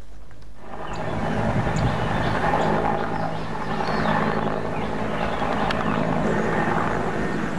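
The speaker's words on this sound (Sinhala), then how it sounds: "ගුවන් හමුදාවේ බෙල් 212 වර්ගයේ හෙලිකොප්ටර් යානයක්ද ඒ සඳහා යොදවා තිබෙනවා." An Air Force Bell 212 helicopter deployed against a wildfire on Maragala mountain in Monaragala, heard as a steady, loud rotor and engine drone that holds for several seconds with no talk over it.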